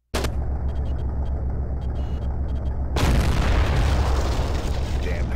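A jeep is blown up by a Sherman tank in a World War II video game: a sudden loud, sustained blast of broadband noise that cuts in over a steady engine drone and tails off into rumbling.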